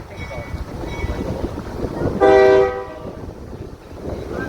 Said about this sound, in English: the locomotive that's pulling the train that'll pass us by here in just a moment